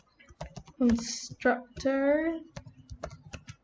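Keyboard taps come in short bursts beside and under a voice as he writes out notes on Java constructors, close and crisp between his words.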